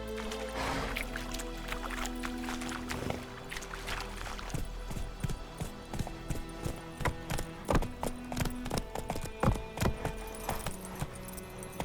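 Rhythmic hoofbeats of Roach, a horse in The Witcher 3 video game, pick up into a steady gallop over ambient game music, with jangling tack, fairly close and clear.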